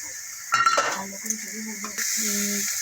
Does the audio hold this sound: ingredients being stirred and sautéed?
yes